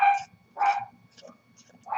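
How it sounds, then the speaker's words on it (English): A pet dog barks in a home, three loud sharp barks spaced across a couple of seconds with quieter yips between, heard close by over faint room noise. "Sorry, my dog's barking."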